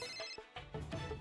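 A telephone rings in a Telemundo comedy scene, sounding as short repeated electronic bursts of ringing, fairly loud and close, with no one speaking.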